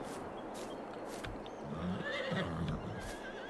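Horses in Farming Simulator 22 neigh and whinny in a game farm setting, with a clip-clop of hooves; a couple of calls rise over a steady ambient background, moderately close and fairly loud.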